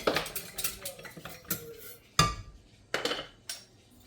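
Tangled metal whisks knock and clink together as they are pulled apart in a kitchen, a few sharp metallic hits and rattles in irregular bursts, close by with no talk.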